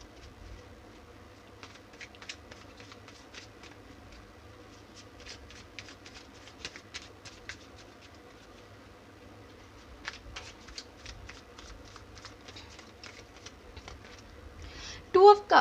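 Tarot cards are shuffled by hand in a quiet room, giving soft repeated riffling flicks in bursts, with a louder shuffle of the deck near the end.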